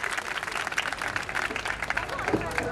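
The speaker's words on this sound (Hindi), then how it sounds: "जोरदार तालियों के साथ बच्चों।" Children and officials clap at a National Voter Day school event in Baghpat, a dense, steady round of applause from a crowd, with a voice speaking over it.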